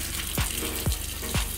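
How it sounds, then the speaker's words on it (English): Water running from a camper faucet after de-winterizing, a steady close gushing stream broken by three sputtering bursts as air spits through the line. "we're going to turn on each faucet and we're going to let it run until there's a nice stream"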